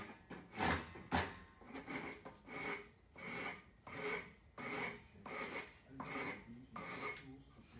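A wood rasp worked across a piece of wood held in a vise, making steady, rhythmic rasping strokes, about eight light passes in a row, close and clear with no talking.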